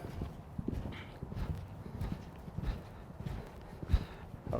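Horse cantering: soft, irregular hoof thuds and clip-clop beats under a low, muffled outdoor background, fairly faint with no clear voices.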